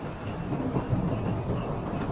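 A continuous deep roar of heavy rain and storm wind, with a low rumbling undertone, steady throughout.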